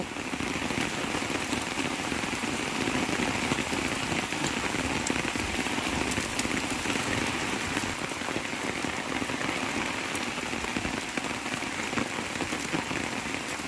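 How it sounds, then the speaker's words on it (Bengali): Heavy rain pours down in a dense, steady hiss with constant patter of drops, unbroken throughout and fairly loud. "যে পরিমাণে বৃষ্টি হইতেছে মনে হয় যে বন্যা হয়ে যাইব।"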